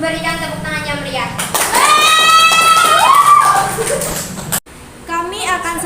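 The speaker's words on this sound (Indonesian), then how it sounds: "Hadirin dimohon memberikan tepuk tangan yang meriah." Audience applause at an Indonesian election debate event, a burst of clapping and cheering rising under a host's amplified voice, swelling loud for a few seconds before cutting off abruptly as talk resumes.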